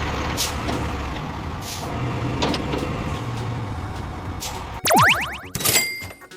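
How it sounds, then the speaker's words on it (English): Heavy tow truck engine rumbling at idle, then a sharp hissing release and squealing tones from air brakes near the end. "This is an emergency tow truck."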